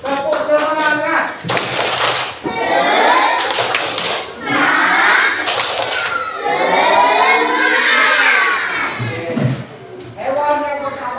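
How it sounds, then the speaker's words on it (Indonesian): A primary school class performing the tepuk semangat clapping chant, children's voices chanting in unison with sharp rhythmic claps between phrases, loud and close in a classroom. "Tepuk semangat."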